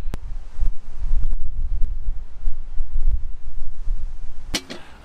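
Strong wind buffets the microphone beside a carp fishing lake, a loud, low rumbling roar that gusts unevenly throughout, with a few faint clicks and a brief knock near the end.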